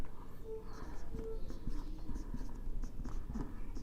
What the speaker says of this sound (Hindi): writing KCL equation eight node 1